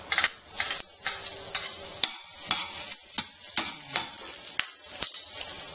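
Garlic frying in olive oil under constant stirring, with a steady sizzle broken by repeated sharp scrapes and taps of the utensil against the pan, close and fairly loud.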